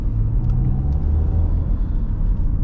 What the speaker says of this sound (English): you add in a little bit of throttle and the RPM just boom, boom, like this